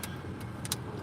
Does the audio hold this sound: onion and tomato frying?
no